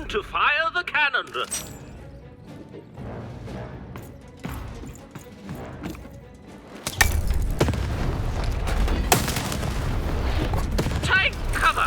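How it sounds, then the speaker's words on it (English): Cannon blasts boom through the video game Lost in Random: the first half is quieter with scattered thumps, then a loud sustained barrage of explosive impacts and crashes fills the rest. "Shoot the button to fire the cannon."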